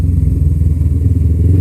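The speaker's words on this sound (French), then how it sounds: "c'est une moto quand même qui, je disais, marche bien" Motorcycle engine running steadily while riding, a bike licensed for the A2 category, with a loud, continuous low rumble and faint clatter close by, no voices.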